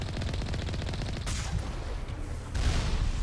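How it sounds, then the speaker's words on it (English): Cerberus missiles strike near the Mako vehicle in the Mass Effect game, a rapid rattle of fire giving way to two heavy blasts, loud and close with a rumbling tail. "Cerberus ain't messing around. They're already firing missiles."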